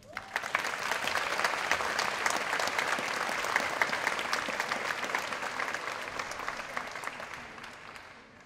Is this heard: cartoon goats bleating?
no